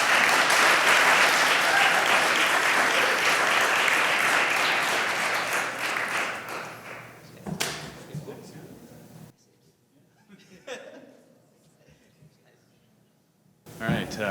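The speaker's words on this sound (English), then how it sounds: "please give a round of applause to Ingredion" An audience applauds award winners at a youth entrepreneurship challenge, a loud, dense burst of clapping that fades after about seven seconds into quieter room sound and scattered voices.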